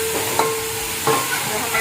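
Finely chopped onion frying with ginger garlic paste in a pan, a steady bright sizzle with a few soft stirring scrapes, close and continuous with no talk.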